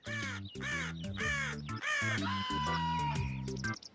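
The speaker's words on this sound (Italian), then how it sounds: "Gli uccellini cantano armoniosi." Crows or similar birds caw repeatedly in harsh, rhythmic bursts, loud and close, with overlapping calls and a steady underlying tone throughout.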